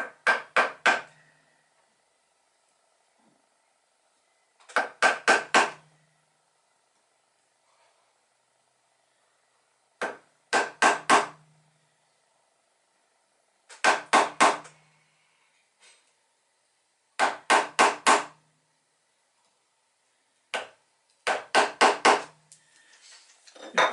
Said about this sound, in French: Là, je prends une gouge pour faire le côté extérieur.